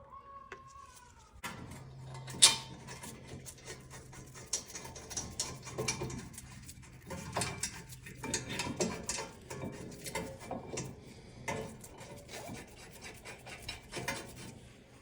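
A ratchet snugs down the 17mm caliper bracket bolts on a 2016-2021 Honda Civic during a front brake job, making quick rasping clicks in uneven bursts at close range, moderately loud with no talk.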